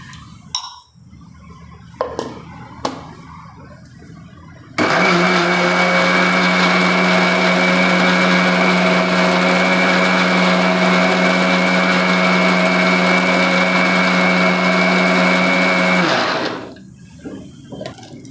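A kitchen mixer blender crushes chopped vegetables for juice, starting abruptly after a few clicks and handling noises, then holding a loud, steady whirring roar for about eleven seconds before winding down.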